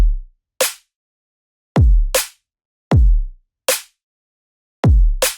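Sparse future bass beat at 156 BPM, with deep booming kicks alternating with short, bright snare hits in a halting, syncopated pattern, each hit clean and separated by silence, no voices.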